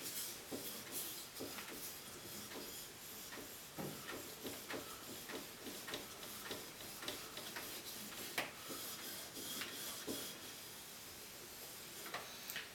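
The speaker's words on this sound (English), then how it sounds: "So I'm going to do one more time, uraoshi sharpening." A single-bevel Japanese kataba knife drawn across a whetstone on the flat back side, a faint, quiet scrape repeated in regular push strokes roughly once a second, with a soft hiss between strokes.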